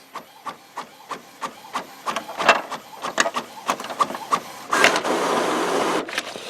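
An Epson WorkForce wide format printer with a sublimation ink system ticks out a steady run of short, regular mechanical pulses, then ends in a longer continuous whirring feed.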